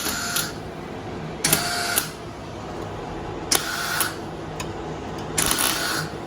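Short bursts of welding on a body panel of a Ford Focus ST during a major bodywork session: four separate crackling, hissing bursts, each about half a second long, fairly close over a steady background hum, with no talk.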